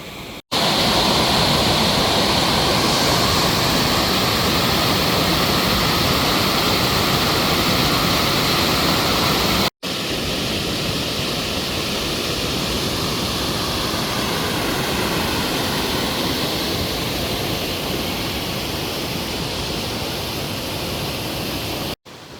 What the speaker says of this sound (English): I hope you guys enjoy the river nature sounds.